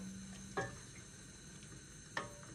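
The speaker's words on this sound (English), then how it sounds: "Give it a stir" Homemade oat milk being stirred in a pan on the hob, the quiet hiss of gentle heating broken by two soft clinks of a utensil against the pan, about a second and a half apart.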